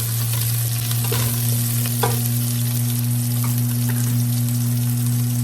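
Onion goes into a pan of browning chicken for kinamatisang manok, a steady close sizzle and crackle of frying over a constant low hum, with no talking.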